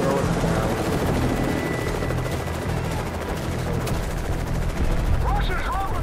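Helicopter rotors thrum loudly under dense bursts of gunfire in a Call of Duty: Modern Warfare 3 battle as Russian troops rope down from choppers. The noise is chaotic and continuous, with voices faintly under the din.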